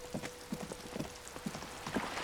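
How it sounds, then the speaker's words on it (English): Heavy rain in the video game Disco Elysium, a steady wash of falling water with irregular drips and taps, close and even throughout, no voices. "it's pouring with rain"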